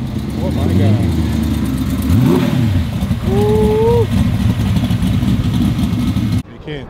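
Volkswagen Rabbit engine revving, a rough, worn-sounding motor rising and falling under steady engine noise while people talk over it.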